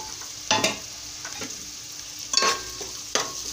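Sorakaya palu curry (bottle gourd in milk) with salt, chili powder and turmeric fried and stirred in a pan, a steady soft sizzle broken by a few scraping spoon strokes.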